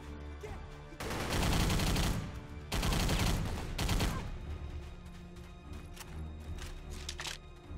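Sustained automatic gunfire bursts roar in the Xbox 360 game Battle for the Pacific during an Iwo Jima mission, loud and dense for several seconds, then scattered shots and battle noise continue.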